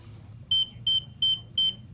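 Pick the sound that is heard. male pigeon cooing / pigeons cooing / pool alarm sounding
pool alarm sounding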